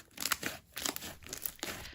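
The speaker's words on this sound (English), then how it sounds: "It makes great bubble pops. It's very clicky and it inflates nicely." Slime squeezed and handled by hand, giving quick clicky bubble pops and crinkly crackles in several close bursts, quiet and intimate with no talking.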